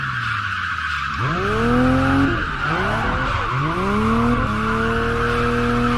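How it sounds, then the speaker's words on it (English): A car drifting in the Assetto Corsa racing game: loud, sustained tire squeal that rises and bends in pitch as the back end slides, over a revving engine, with no talk. "get the back end out so it's losing traction, and then off that, back onto the throttle and use that to power ourselves around"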